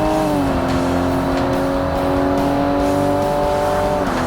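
Race car engine in the Forza Motorsport video game on the classic Xbox, a loud sustained high-revving drone holding a steady pitch, alone with no talking.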